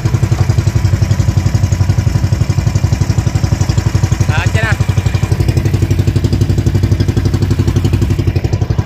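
A motorcycle engine pull-started and then running, with a loud, close, rapid and regular chugging beat that holds steady throughout.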